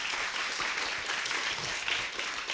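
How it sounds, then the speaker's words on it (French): A crowd applauds loudly and continuously, a dense wash of clapping hands with no pauses. "On applaudit encore très très fort."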